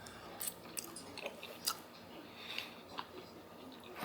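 Someone chews a spoonful of rehydrated freeze-dried pot roast noodles with potatoes, carrot and beef, producing faint, close, irregular wet clicks and smacks in a quiet setting.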